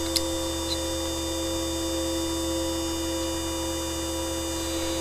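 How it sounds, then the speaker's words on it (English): A Dillon RT1500 case trimmer running with no cartridge in it, a steady electric motor hum that stays even and unbroken throughout, close by and with no one speaking. "Let me shut off the trimmer."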